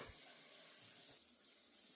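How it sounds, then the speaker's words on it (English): Steady, soft hiss of hot shower water running, constant and unbroken, heard alone at low volume. "then you turn the water on, kind of hot"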